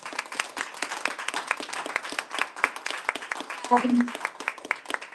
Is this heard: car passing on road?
no